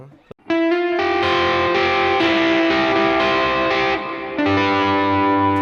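Electric guitar plays sustained, overdriven chords with a boosted tone, trailing delay repeats and a wash of reverb, loud and continuous after a brief pick noise.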